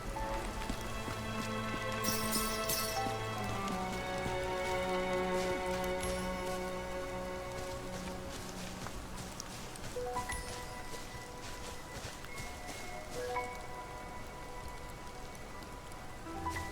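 Constant rain pattering on surfaces in a video game, a dense, even wash of drops lasting throughout with faint background music and no voices.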